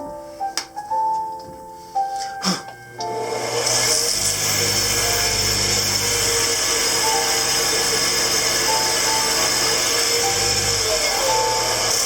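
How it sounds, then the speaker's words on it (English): A turned wooden bowl spinning on a lathe while being sanded, heard as a loud steady whirring drone that starts after a few clicks and knocks, then runs continuously and close. "I'm going to sand that just a little bit."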